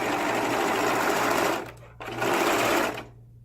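Sewing machine stitching a seam on a girl's dress, whirring loudly and close in two steady runs with a brief stop between, then falling quiet.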